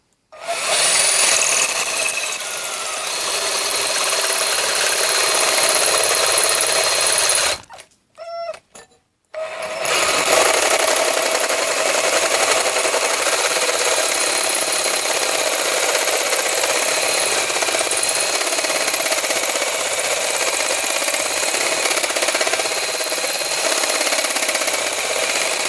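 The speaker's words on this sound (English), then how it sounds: "we're going to send through a 3/4 hole saw and see how this thing does" A Black & Decker 14.4V cordless drill, powered by a Milwaukee M18 battery, drives a 3/4-inch hole saw through wood with a steady, loud grinding whir. The cut pauses briefly near the middle before resuming for a long continuous stretch.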